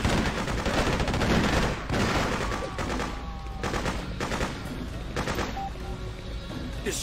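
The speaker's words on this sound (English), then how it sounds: "They're shooting at us!" Loud, dense gunfire fills the Freedom Fighters video game battle, with continuous machine-gun bursts and overlapping shots forming an unbroken close barrage.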